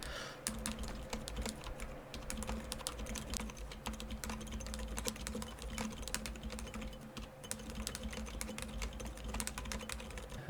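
Rapid, continuous typing on a keyboard with Outemu silent tactile switches gives dense, close, muted key clicks with a faint pingy ring.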